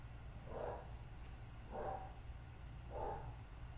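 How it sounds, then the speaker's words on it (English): A dog barks three times, faint and muffled as if in another room, at roughly one-second intervals over a low steady background hum. "you're going to hear my dog barking"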